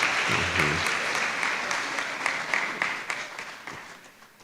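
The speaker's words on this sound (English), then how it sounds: "our chair also deserves a round of applause" An audience applauds the chair at the close of an inaugural university lecture, a steady, dense patter of many hands held throughout, with a faint voice murmuring near the start.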